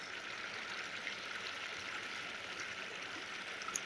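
Icy mountain stream near Panchchuli basecamp rushes steadily over stones, a constant close hiss of flowing water with no pauses and no voices.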